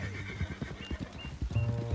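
Horse in Red Dead Redemption 2 whinnying and neighing, with clip-clop hoofbeats underneath, fairly close and moderately quiet, with no speech.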